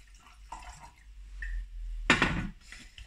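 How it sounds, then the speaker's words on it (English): A 2017 Pansa Blanca white wine pours from a bottle into a glass, a quiet trickle that swells into a brief gurgling splash near the end, with no talk. "so let's pour this and have a little try"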